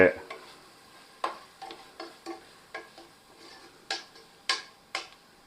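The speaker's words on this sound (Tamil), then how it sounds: "இதை நல்லா கலந்து விட்டுட்டு" Curry leaves and a spoon of turmeric powder stirred in a frying pan for chicken curry: a series of sharp spatula scrapes and clicks roughly every half second over a soft, steady sizzle, with no talking.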